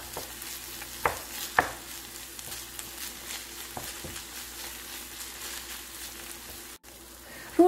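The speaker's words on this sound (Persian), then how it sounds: "4 قاشق غذاخوری رب گوجه فرنگی اضافه میکنیم و حدود 1 دقیقه هم رب رو تفت میدیم" Several spoonfuls of tomato paste fry in a pan for a tomato-soy macaroni sauce, giving a soft, even sizzle under a few sharper utensil scrapes and taps, close and fairly quiet.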